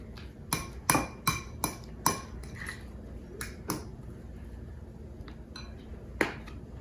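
A spoon stirs mayonnaise into mashed egg yolks for deviled eggs, clinking sharply against the bowl about a dozen times in an uneven rhythm, close and fairly loud over a quiet background.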